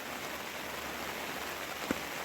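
Steady, even rain falling on a surface in Hamsiköy, Trabzon, a constant close hiss with one brief small knock near the end.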